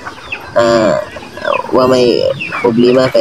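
Chickens on a small farm fed mixed corn and sunflower seeds, clucking and crowing in bursts, loud and close, with people talking over and between the calls.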